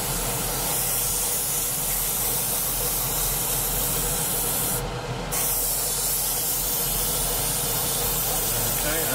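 Paint spray gun hissing steadily while coating a Phantom model aircraft, a continuous close airy spray running throughout with a brief brighter burst midway; a voice talks over it.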